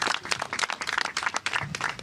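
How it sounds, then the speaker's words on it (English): An audience applauds at a family-business celebration, dense rapid clapping from many hands, loud and steady over two seconds with no speech. "give her a big round of applause"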